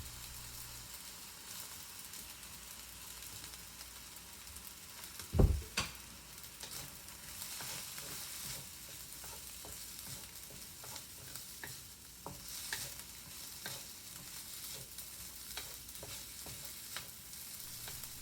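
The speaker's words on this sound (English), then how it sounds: "Give it a last stir, and now you can turn off your stove." Egg fried rice is stirred and tossed in a hot wok, with a faint continuous sizzle, soft scraping, and one sharper clank of the utensil against the metal partway through. No one speaks.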